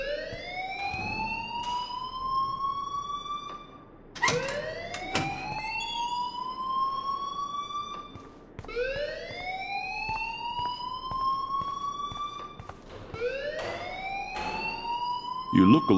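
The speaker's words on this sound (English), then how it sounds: "please turn off that alarm since that's your job" An alarm in the video game Life is Strange sounds in four loud rising electronic whoops, each sweeping upward then holding, repeating roughly every four seconds with no pause in between.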